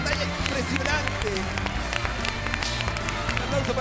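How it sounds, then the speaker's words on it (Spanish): A studio audience on The Voice Chile claps and cheers for a contestant named Erika after a battle round, dense applause mixed with crowd noise under an announcer's voice. "Un aplauso para Erika que continúa en competencia."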